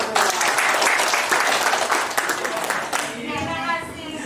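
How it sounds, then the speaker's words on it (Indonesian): An audience at a village library launch event claps hands in a dense burst of applause that fades after about three seconds, followed by a voice speaking over quieter background sound. "Tepuk tangan untuk kita semua."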